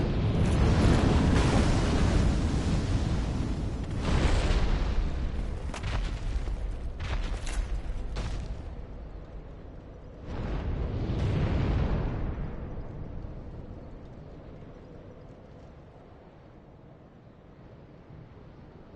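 A dragon attacking in Undead Burg in a fantasy action game sends a series of heavy, booming blasts and roars across about nineteen seconds, surging loud early, then striking again midway before fading out.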